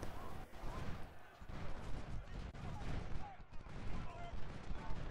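Cavalry firing a musket volley in a Civil War strategy video game set at Gettysburg, a dense crackle of many muskets going off in a continuous rolling burst over a busy battle din.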